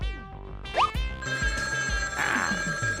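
An electronic ringtone chimes over background music, with a brief springy boing partway through.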